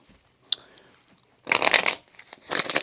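A tarot card deck is shuffled by hand close up, two crisp bursts of riffling cards after a faint tap, in an otherwise quiet room.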